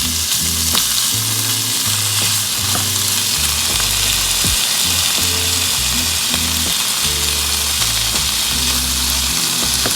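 Italian ground sausage fries loudly in a hot pan with a dense, continuous sizzle and crackle, with occasional low scraping and stirring bumps and no talking.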